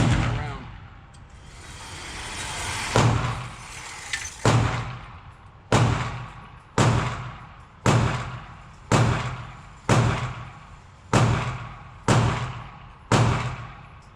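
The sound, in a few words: gunshots from a CZ P10c Ported pistol at the range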